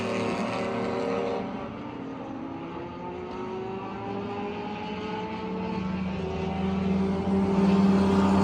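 Race cars at VIR in a ChampCar endurance race, a steady engine drone with rising tones as the cars accelerate, building louder toward the end, no talking.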